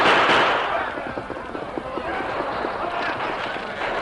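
Rifles open fire in a radio drama battle scene: dense, loud bursts of rapid shots blend with a galloping, rumbling commotion, and voices are mixed into the noise throughout.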